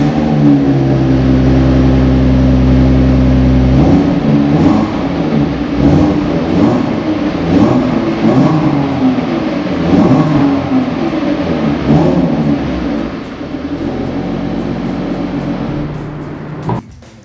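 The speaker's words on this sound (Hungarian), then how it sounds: "meghallgatjátok a gyári 3-7-nek a hangját?" The factory 3.7-liter V6 of a 2014 Ford Mustang automatic, idling loudly close up, then revved in repeated climbing pulls before settling back toward idle.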